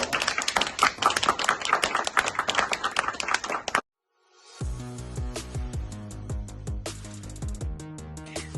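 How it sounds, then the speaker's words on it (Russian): An audience claps loudly in a crisp, dense burst of applause for a few seconds, followed by a brief silence and then rhythmic music. "Аплодисменты."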